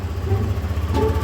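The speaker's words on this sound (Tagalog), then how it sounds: "unang andar malamig pa makina ito yung tunog niya" A cold Yamaha Aerox v2 scooter engine idles on its first start, a steady low rumble held close and even throughout, with a faint rattle over the top.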